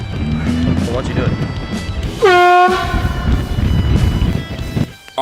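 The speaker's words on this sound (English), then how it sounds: "back at it again with an air horn" An air horn blasted as a prank at a frisbee golf course, one loud sustained honk of about half a second amid shouting voices and outdoor noise.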